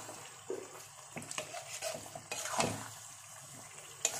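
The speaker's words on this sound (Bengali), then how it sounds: "পুরো মাটনটা ঢেলে দেবো।" Marinated mutton tipped into a hot pan, sizzling steadily while a spoon or spatula stirs and scrapes against the metal, with a few clinks of utensil on pan; close and fairly quiet, with no talking.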